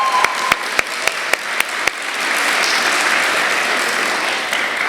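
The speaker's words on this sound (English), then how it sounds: "can we give a round of applause for Mea?" A few sharp, evenly spaced claps start things off, then an audience breaks into sustained, fairly loud applause that holds steady to the end.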